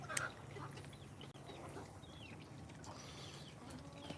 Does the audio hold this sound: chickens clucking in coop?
yes